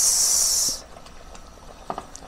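Pot of pakbet vegetables with pork belly coming to a boil, a loud steamy hiss that cuts off abruptly under a second, then faint bubbling with a couple of soft clinks.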